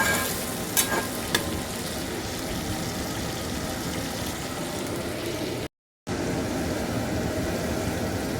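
Onion, ginger and garlic fry in oil in a pan for dried-fish pickle, a steady close sizzle with a few early stirring scrapes and a brief dropout to silence near the end.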